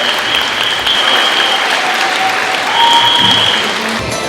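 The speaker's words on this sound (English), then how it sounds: "round of applause right there." Loud, dense clapping fills a hall at a young scientists awards ceremony in Kenya, sustained and close, with faint tonal sound lingering behind the crowd.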